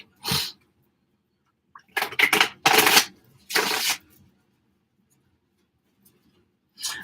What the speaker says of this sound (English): Let me get one more shuffle here.